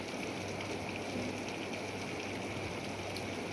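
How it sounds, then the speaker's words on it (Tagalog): Heavy rain pours steadily on a nipa hut roof, a dense continuous hiss with scattered drips as water leaks through, constant and moderately loud with no voices. "Lakas ng ulan, lakas din na ang tulo ng ulan. Malakas siya ngayon."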